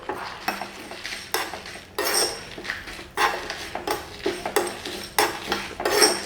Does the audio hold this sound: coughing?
no